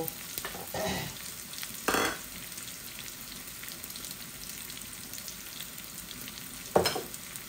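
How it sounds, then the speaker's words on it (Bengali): Onion and garlic frying in oil for a dal tempering, a quiet sizzle broken by a few loud bursts of stirring and scraping, no talk. "এই পেঁয়াজ রসুনটা লাল হয়ে গেলে আমি ঢেলে দিব।"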